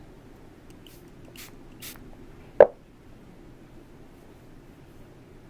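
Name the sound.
spraying shimmering body oil from spray bottle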